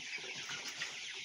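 Sonali chickens on a Bangladeshi farm cluck in a dense, steady flock chorus, with soft wing flaps and scattered calls close by, no talking.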